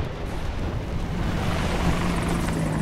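An Apache military helicopter flies nearby, giving a steady, heavy rotor and engine roar that holds at constant loudness with a low droning hum underneath, with no voices.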